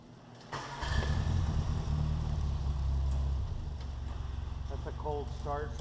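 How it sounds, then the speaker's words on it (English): An Austin-Healey Bugeye Sprite engine cold-starts after sitting unused for a few days. It catches almost at once with a loud burst, then settles into a steady, throbbing idle close to the microphone, with a faint voice briefly near the end. "A cold start, by the way."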